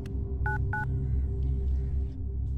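A telephone is dialed in a film scene set around a police call: two short touch-tone beeps sound close together over a steady low hum, with no voices during the dialing.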